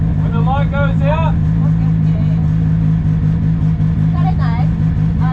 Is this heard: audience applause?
no